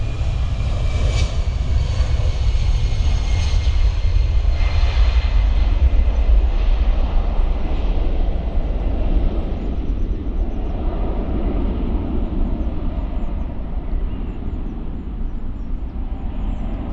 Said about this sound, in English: So we've got EasyJet going off.